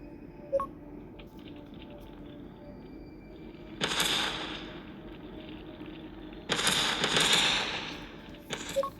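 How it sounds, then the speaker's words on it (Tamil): Explosions in the video game Solar Smash erupt as two broad, roaring bursts several seconds apart, with a few small pops between them over a quiet hum. "வெடிக்கிறது, ஆனால் என்ன கருமன்னான்னு தெரியல."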